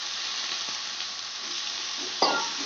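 Chicken, 500 grams, stir-fries with spices in a hot pan, giving a constant bright sizzle with soft scraping stirs and one sharper clack near the end, close and steady with no talk.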